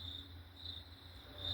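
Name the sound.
crickets chirping, played from YouTube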